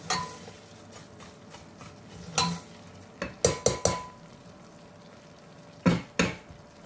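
Broken wheat dalia dry-roasting in a pan while a spoon stirs it, giving a steady low scraping with several sharper clinks and knocks against the pan, close and alone with no talking.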